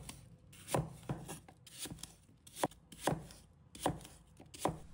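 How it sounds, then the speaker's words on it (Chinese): A knife chops an apple, already quartered and cored, into small even pieces on a cutting board, giving sharp, close, rhythmic thuds with short pauses between bursts. "再去核，然后切成均匀的小块。"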